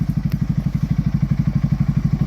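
A Segway Snarler AT6 SX 4x4 ATV engine runs steadily at close range, giving a loud, evenly pulsing low thrum with a regular rhythm and no talking.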